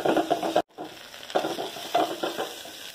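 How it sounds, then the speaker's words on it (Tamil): Seeni puliyanga, a sweet tamarind pod, sautés in a pan for a Tamil gravy, with a soft sizzle and stirring scrapes close by and one brief break in the sound. "இதை போட்டு நல்லா வதக்கிக்கலாம்."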